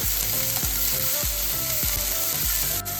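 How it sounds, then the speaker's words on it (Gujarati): Green and red capsicum sauté in a hot pan for crispy corn, with a steady loud sizzle and a regular rhythm of spatula scrapes and stirs, about two or three per second, with no talk. "બે મિનિટ જ આપણે સાતરવાનું છે કેપ્સિકમ ગ્રીન કેપ્સિકમ અને રેડ કેપ્સિકમ"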